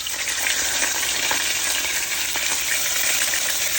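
Pork steak sizzles steadily in a pan over low heat, a close, continuous frying hiss with faint crackles throughout.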